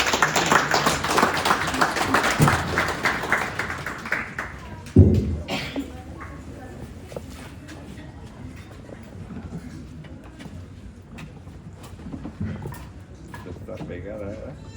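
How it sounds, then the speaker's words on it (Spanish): Audience applause at an evening meeting of a Oaxaca support group, a burst of clapping that fades after a few seconds, followed by someone talking over scattered taps and thumps. "Lo recibimos con un aplauso."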